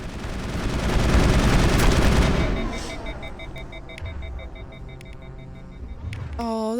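Gunfire in the sci-fi shooter Mass Effect: a dense burst of rapid shots swells loudly, then fades into sparse impacts, rumble and electronic beeps, ending with a sweeping tone.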